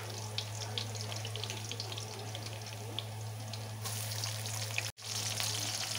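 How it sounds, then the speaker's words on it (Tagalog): Garlic and onion sautéing in a pan as the first step of pansit, giving a steady close sizzle and hiss over a low hum, with a brief dropout near the end. "igisa muna natin yung ating bawang at sibuyas"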